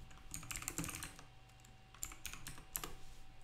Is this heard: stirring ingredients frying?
no